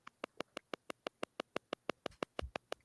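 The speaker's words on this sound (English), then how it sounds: "It might be somebody's phone coming across the mic." A phone's interference tone comes through a microphone as a rapid, evenly spaced train of faint electronic buzzing pulses, about six per second, steady for the whole stretch with no talking.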